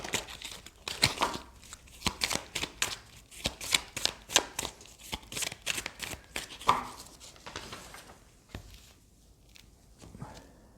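Tarot cards shuffle close by in quick, papery bursts of riffling and flicking, with irregular rhythm, then fade to quieter handling near the end.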